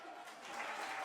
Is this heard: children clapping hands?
yes